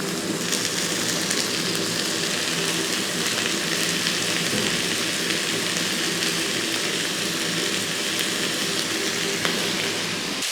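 Tomatoes sautéing and being stirred in a pan for a cherupayar (green gram) curry, giving a steady close sizzle and crackle throughout with faint occasional scraping.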